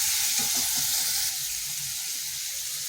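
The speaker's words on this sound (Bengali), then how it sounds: "এবার মশলাটা একটু কষিয়ে নিচ্ছি" Ground turmeric, cumin, coriander and Kashmiri chili powder fry in a pan with a splash of water, giving a loud, steady hiss and sizzle with a few bubbling pops early on, then an even sizzle.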